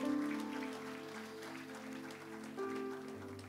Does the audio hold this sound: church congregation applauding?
yes